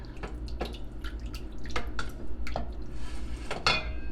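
Homemade bread dough being mixed by hand in a bowl, with a series of irregular clinks and knocks from the utensil against the bowl, plus soft wet sloshing, close and fairly clear.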